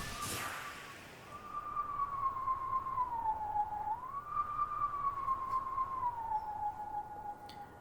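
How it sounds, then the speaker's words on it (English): A single pure melodic tone plays the Song of Healing from Majora's Mask at a Twilight Princess howling stone, a slow wavering line rising and falling, faint and alone after a brief noisy burst at the start. "Yep, that is a song of healing from Majora's Mask."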